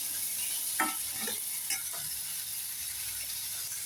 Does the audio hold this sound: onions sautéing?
yes